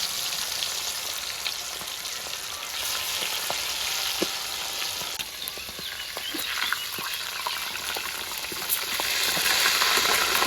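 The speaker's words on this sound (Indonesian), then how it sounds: "Ikan gabusnya digoreng Lur." Snakehead fish frying in hot oil, a loud continuous crackling sizzle with dense popping that holds steady and swells slightly toward the end, close up with no talk.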